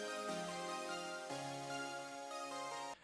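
A bright synth holds a slow major-key chord progression for a rage beat, sustained airy chords shifting every second or so, soft and alone before cutting off abruptly.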